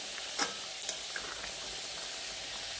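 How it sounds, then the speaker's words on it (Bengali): Potato and pointed gourd korma sizzles steadily in a pan as it is stirred with sugar, a constant bright frying hiss broken by a couple of soft spoon scrapes near the start. "চিনিটা দিয়ে আবারও একবার ভালোভাবে আলু পটলের সঙ্গে মিশিয়ে দিচ্ছি।"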